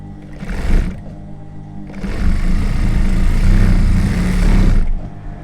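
A sewing machine stitches a bag strap from the inside in two bursts, a short run and then a longer, steady whirring run with a low motor drone, close and loud, with no voices.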